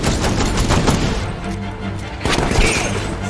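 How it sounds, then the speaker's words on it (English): Rapid video-game gunshots ring out in a loud, continuous barrage of overlapping cracks and booms, with a brief dip midway before the firing picks back up. "I'm just gonna shoot you"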